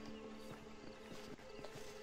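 Horse in the Red Dead Redemption video game arriving at a steady trot, repeated hoof clip-clops over a droning game soundtrack, moderately close and fairly loud throughout.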